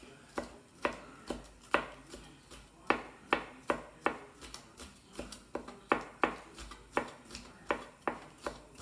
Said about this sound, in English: I'm going to now cut up a little bit of a red pepper, just really fine.